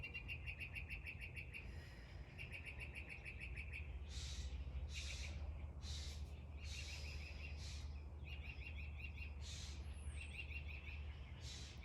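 Many birds, including orioles, doves and finches, chirping and calling, repeated bright bursts of song over a steady low hum, fairly close and continuous throughout.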